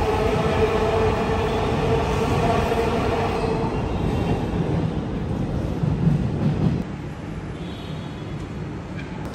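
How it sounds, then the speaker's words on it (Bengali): A Dhaka Metro Rail MRT Line-1 train runs with a steady rumble and hum, a tonal whine in the first half, then the sound drops noticeably quieter near the end as it slows toward a station. "এখন মেবি স্টেশনে চলে যাবে ট্রেনটা।"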